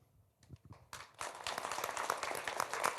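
An audience at a public policy forum on regulatory reform breaks into applause, starting with a few scattered claps and swelling into sustained, dense clapping.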